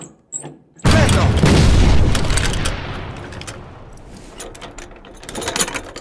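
A cannon fires in the Easy Red 2 video game, Ardennes DLC: one loud, heavy boom hits after a brief quiet moment, then rolls into a long decaying rumble with scattered distant crackles and clanks.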